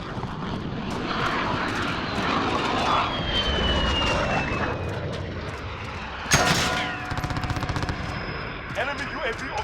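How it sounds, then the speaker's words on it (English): In the Call of Duty Vanguard video game, a friendly VTOL aircraft roars overhead with a loud, sustained engine drone, then a sharp burst and rapid machine-gun fire, with a voice over the noise. "Friendly VTOL in the air."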